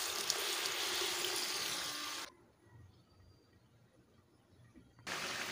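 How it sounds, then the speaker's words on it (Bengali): Water is poured into a pan of ghugni cooking with mutton fat, a steady close splashing rush that stops abruptly, leaves a quiet pause, then starts again. "দিয়ে দেব পরিমাণ মতো জল।"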